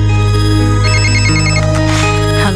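A telephone rings with an electronic melodic ringtone, loud and close, playing its tune continuously with no voices over it.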